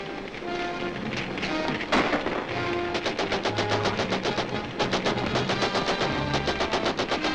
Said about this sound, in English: protect you from the gunfire